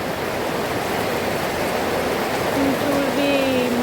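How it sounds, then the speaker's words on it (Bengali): Heavy downpour drums loudly and steadily as a dense, even roar during a stormy spell, with a voice briefly heard toward the end. "দেখো কথা বলতে বলতে বৃষ্টি এসে গেল"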